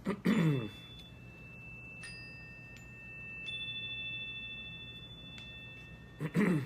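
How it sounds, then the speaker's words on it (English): Several soft chime strikes ring out one after another and sustain with a long, clear shimmer, bracketed by brief throat sounds. "there's my morning chimes"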